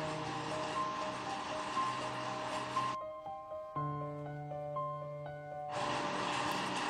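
A sewing machine runs steadily while stitching the hook strip of a 36-size princess-cut blouse, with a whirring drone that pauses briefly midway and then resumes at full speed; no talking.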